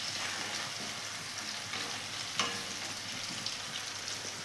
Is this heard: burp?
no